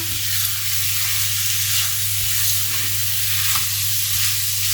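Crushed garlic frying in a pan during preparation of a vegetable tart, a continuous close sizzle with a low steady hum beneath and occasional soft stirring scrapes, heard alone without speech.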